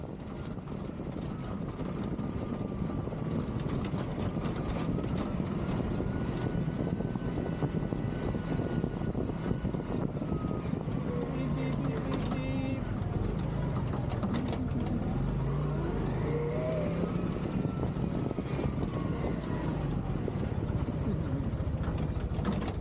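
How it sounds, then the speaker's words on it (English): Tuk-tuk riding down a winding mountain road near Sorrento, a continuous buzzing small-engine drone with wind rumble, shifting pitch as it revs and slows through the bends, steady and close for the whole stretch. "We got to enjoy the winding tuk-tuk ride back down the mountain to the restaurant."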